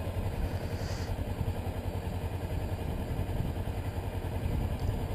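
A Kawasaki Ninja 300 motorcycle engine idles close by, a steady, even mid-pitched rumble with a fast regular pulse that holds constant throughout, with no talking.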